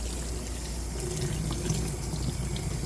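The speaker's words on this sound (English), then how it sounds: "one more rinse" Water runs steadily from a tap as a Coton de Tulear is rinsed during grooming, a loud, even rush of spray with no talking.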